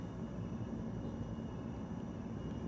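Steady, loud engine drone of an aircraft in flight inside a flight simulator game, a constant low rumble with a faint sustained hum and no talking.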